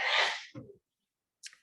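A single sharp sneeze bursts out near the microphone in a quiet lecture hall, followed by a short breath and a faint trailing sound.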